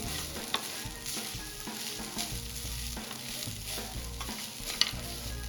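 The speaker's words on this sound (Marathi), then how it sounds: "आपल्याला हा किस पण छान परतून घ्यायचा आहे तीन ते चार मिनिट" Grated fresh coconut stir-fried in ghee in a pan for Maharashtrian karanji filling, giving a steady close sizzle with the scrape and clatter of stirring throughout.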